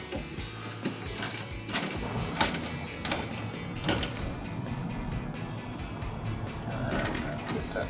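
An 8 mm bolt is tightened on a Corsa Performance cold air intake in a Hemi Charger, giving a run of sharp, irregular ratcheting clicks and clunks up close over a low background hum.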